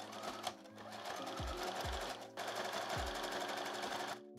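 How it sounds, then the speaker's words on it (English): A sewing machine runs a zigzag stitch over elastic laid on knit fabric, a steady close mechanical whir with a fast rhythmic needle chatter, pausing briefly midway before resuming until a stop near the end. "we're going to take our elastic and we're going to lay it on the back side of the fabric and we're going to put a zigzag stitch across"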